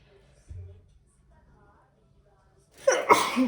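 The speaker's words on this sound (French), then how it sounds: "Excusez-moi, j'ai envie d'éternuer." A single sharp sneeze near the end, close and loud, after a few seconds of near silence with a faint breathy sound.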